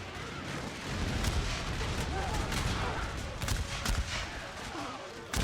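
Artillery cannons firing in a Great Britain naval campaign game, producing a dense, continuous roar of overlapping booms and blasts with a few stronger thuds standing out.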